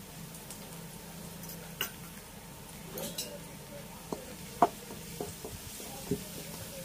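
Chopped ginger and garlic shallow-fry in two tablespoons of oil over a high gas flame, giving a faint, steady sizzle broken by occasional light clicks of a utensil against the pan.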